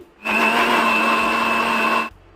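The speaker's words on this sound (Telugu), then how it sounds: "ఇప్పుడు మూత పెట్టుకుని బ్లెండ్ చేయాలండి" A kitchen blender grinds sugarcane pieces with cooling water for homemade juice, a loud steady whirring drone that starts abruptly, runs evenly for about two seconds close by, then cuts off, with no talking.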